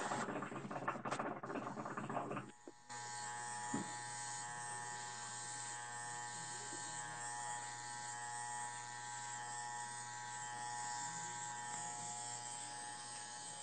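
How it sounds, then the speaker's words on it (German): Electric hair clippers buzz steadily at close range during a home haircut, a constant mechanical hum after a brief burst of talk at the start. "Bis hierhin haben wir rasiert."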